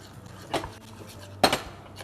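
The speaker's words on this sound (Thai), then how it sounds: "เราก็จะค่อย ๆ ผัดเข้าไปครับ" Ingredients are stir-fried in a pan over a charcoal stove, with two or three sharp clinks of a utensil against the pan over a quiet background.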